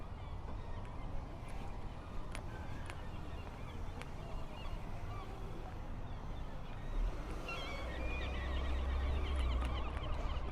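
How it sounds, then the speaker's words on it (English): Birds call busily and loudly on a city street in Portland, Maine, their chirps and honks layered over steady outdoor traffic rumble that swells toward the end. "A lot of bird action over here. Like, I mean, they are really going at it right now."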